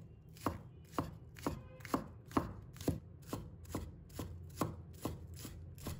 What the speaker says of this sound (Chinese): 把葱白切成小粒